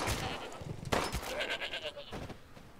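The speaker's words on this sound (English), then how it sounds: "Goddamn goat." A goat bleats in the video game Resident Evil 8, a couple of nasal bleats at moderate level over a busy game background.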